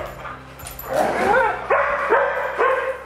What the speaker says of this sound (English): Ivy, don't you bark